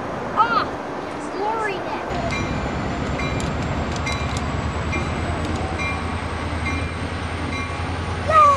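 A passenger train passing at night in Encinitas, with rail cars including a Silver Splendor car rumbling and clattering steadily nearby and faint wheel squeals, while people talk over it.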